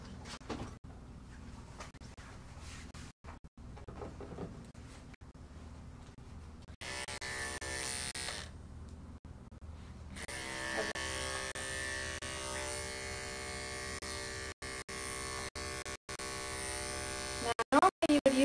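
Electric dog clippers buzz steadily while grooming a Bedlington terrier, the motor tone shifting as the blade moves through the coat, with a person talking quietly over the hum.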